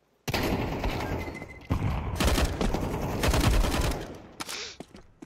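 Rapid automatic gunfire from the video game Counter-Strike 2, dense sustained bursts of shots with brief gaps, loud and close, filling nearly the whole stretch.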